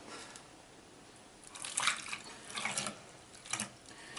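Water pours into a Mighty RX smoothie blender already holding white onion, arriving as a few splashy bursts after a quiet start, fairly soft and close, with no talking.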